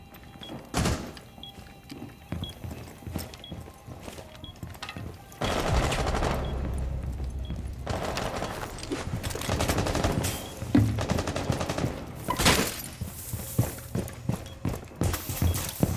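Gunfire in the tactical shooter Rainbow Six Siege: repeated sharp shots and bursts of rapid automatic fire, some dense stretches and scattered single cracks, with footsteps and game noise between.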